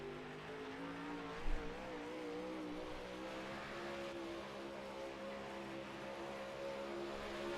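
A race car on track during a qualifying lap, its engine drone steady and fairly distant with shifting harmonic tones and a brief low thump early on, no talk over it.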